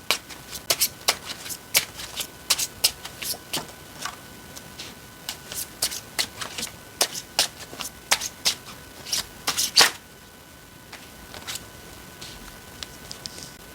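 A deck of tarot cards is shuffled close up, with a steady run of sharp riffling snaps and slaps for about ten seconds before it quiets to a few soft taps.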